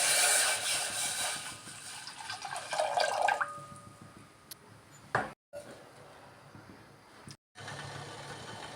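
Water pours steadily into a metal pot for boiling peanuts, a rushing splash that tapers off, followed by quieter kitchen sounds and a low background hum.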